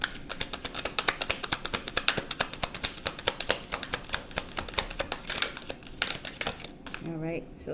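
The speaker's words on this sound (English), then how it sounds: "I'll shuffle one more time if nothing comes out." Rapid, rhythmic riffling of tarot cards being shuffled close up, a steady flurry of crisp snaps, ending with a brief voice.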